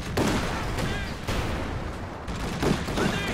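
Gunfire and explosive blasts from a Centaur tank in the strategy game Company of Heroes 2: a dense, continuous barrage with loud bursts throughout, no voices.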